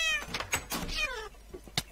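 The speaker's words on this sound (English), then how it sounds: "Oh no, it's a witch's cat." A witch's cat in modded Minecraft gives several close, clear meows in quick succession, with a few soft clicks between them.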